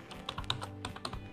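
Quick bursts of close keystrokes clatter on a computer keyboard while Arduino code is typed, a fast irregular patter of clicks with no talking.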